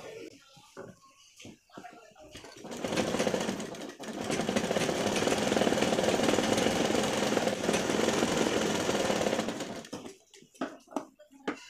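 A sewing machine stitches along a folded panel of a pillow cover, running in one steady whirring burst of about seven seconds, with a person talking before and after.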